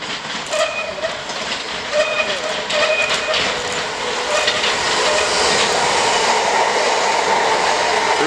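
A Great Western Railway train pulls into Ealing Broadway station, a loud, broad rumble and rolling hiss that builds and holds, with brief whistle-like tones early on.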